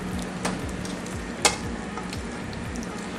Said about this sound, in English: we're rendering that bacon out